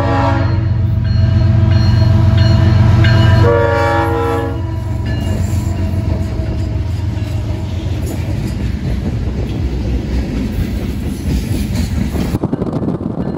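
CSX freight train O823 charging northward, its horn blaring loud and close for the first few seconds, then the steady rumble and clatter of passing railcars continuing to the end.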